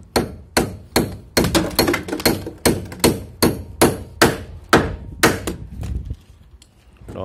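Nails driven into wooden roof rafters with a hammer, as a rapid series of sharp, loud, close blows in irregular bursts before falling quiet.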